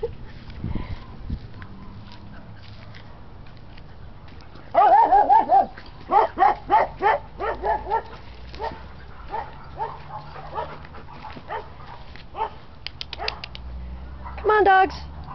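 Several dogs bark and yip in bursts at a doggy daycare, loud and close, with a run of quick barks in the middle and another near the end, while people talk and call to the dogs between barks.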